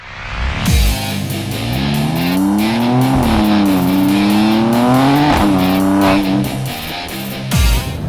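A car engine drones loudly at high speed, its pitch rising and falling steadily over several seconds, with a brief harsh burst near the end and no talking.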